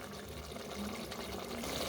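Water pouring into a pot of rice for a chicken and vegetable curry, a steady, continuous splashing rush that holds for about two seconds at moderate loudness with no talk.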